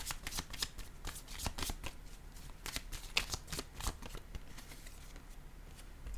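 Tarot cards shuffled continuously by hand, a close, steady run of papery riffles and flicks repeating over several seconds with no talking.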